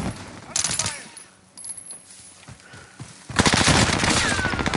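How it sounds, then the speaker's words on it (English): Rapid bursts of gunfire in a multiplayer shooter game, sporadic shots giving way to a loud, sustained volley at the end, with faint voices in between. "I don't know where they're shooting from."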